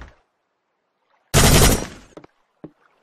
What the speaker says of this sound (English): I am a gunman. Machine gun!